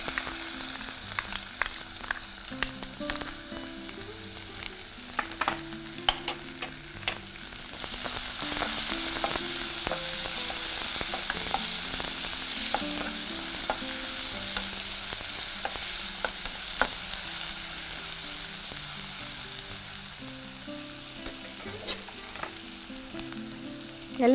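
Steady sizzling of finely chopped onions frying in hot oil, with occasional clinks and scrapes of stirring over the continuous crackle, close up and without talk.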